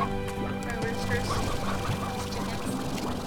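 In Slime Rancher, a flock of roosters clucks in a busy, continuous chatter, layered over a steady bed of background game sound.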